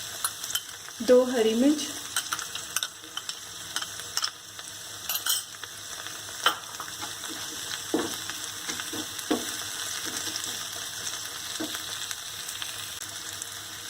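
Poha fries in a pan with green chillies while a spoon stirs it. A steady sizzle runs throughout with scraping stir strokes, and someone speaks briefly near the start.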